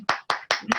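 Hands clap a few times at a museum talk: four separate, evenly spaced claps, close and moderately loud, with no voices.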